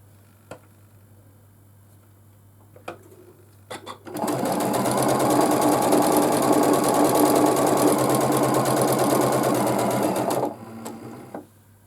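A sewing machine chain-pieces quilt squares in one long, steady, loud run of rapid needle chatter lasting several seconds, preceded by a few faint clicks and ending abruptly.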